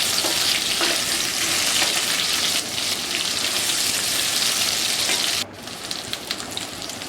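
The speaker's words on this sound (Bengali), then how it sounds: "কাঁচা কলা আর আলুটা এবার একসঙ্গে নেড়ে নেব।" Raw banana and potato pieces fry and get stirred together in hot oil in a pan while a Bengali singi fish curry is being cooked. A loud, steady sizzle runs throughout, with a slight drop in intensity partway through and no talking.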